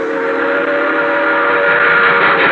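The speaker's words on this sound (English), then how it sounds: "An express train roaring by." Express train roaring past at night in a radio drama, a loud, steady rush of wheels and rails under sustained whistle tones, filling the whole stretch without pause.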